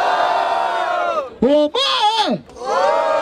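A crowd at a rap battle in Barueri, São Paulo yells and cheers loudly for the MCs, with a host shouting a name between bursts of noise.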